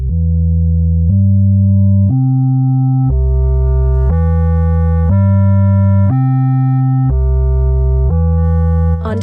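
Synthesized bass notes with distortion in GrooveWire play as a steady sequence of about nine sustained tones stepping up and down, buzzy and loud, with growing distortion grit partway through.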